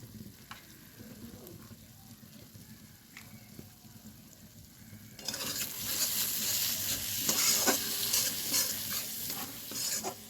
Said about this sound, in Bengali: জিরের গুঁড়ো, ধনের গুঁড়ো দেওয়ার পর আমি মশলাটা ভালোভাবে কষিয়ে নিয়েছি।